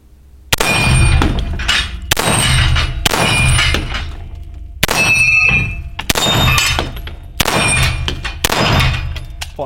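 Rounds from an X-Calibur MK23 handgun strike a steel gong, six sharp ringing clangs at irregular intervals of one to two seconds, each leaving a bright metallic ring that fades before the next hit.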